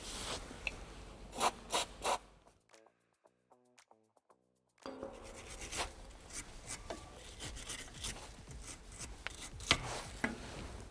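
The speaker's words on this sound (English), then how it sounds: "give them a squirt of lubricant and a clean off with a wire brush" A wire brush scrubs lubricated bolt threads on a vehicle, giving close, rasping back-and-forth strokes in short bursts, with a brief quiet pause partway through before steady scraping resumes.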